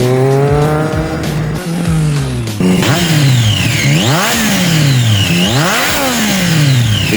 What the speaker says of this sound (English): The 3-cylinder sings in its own torque-rich growl